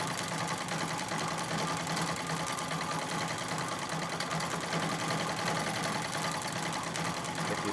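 A Singer 66 treadle sewing machine runs steadily through free-motion quilting, producing a continuous, even, close rattling hum with no pauses or talk.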